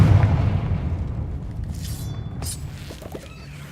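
A Confringo blast spell explodes in Hogwarts Legacy, a short booming burst with a glassy crack, followed by smaller clinks and debris over a low rumbling game soundtrack.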